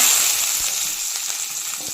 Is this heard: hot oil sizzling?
yes